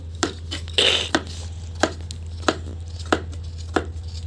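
A knife chopping potatoes on a board in a home kitchen, sharp regular knocks roughly every half second, close and distinct over a steady low hum.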